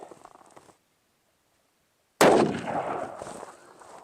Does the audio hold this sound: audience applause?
no